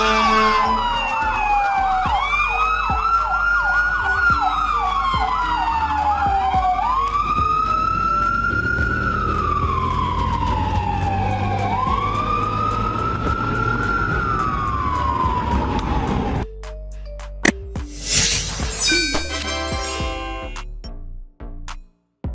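A loud pediatric ambulance siren wails continuously with sweeping rising and falling tones, then switches briefly to a faster, higher yelp near the end.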